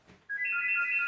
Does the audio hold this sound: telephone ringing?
yes